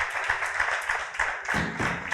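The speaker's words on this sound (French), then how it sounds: "Merci, on peut les applaudir." Church congregation applauding after thanks at a French-language service on spiritual gifts, a steady dense patter of clapping that swells louder near the end, with no voices over it.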